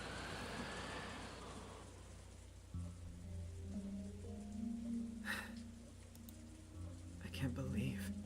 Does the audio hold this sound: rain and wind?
yes